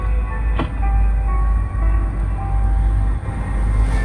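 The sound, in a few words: train passing by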